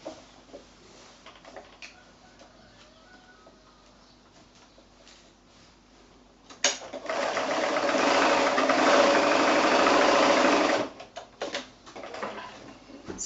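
A sewing machine stitches the corners of a fabric pocket bag sewn from quilting fat quarters. Quiet handling comes first, then a loud steady mechanical whirr runs for about four seconds before giving way to short bursts of stitching.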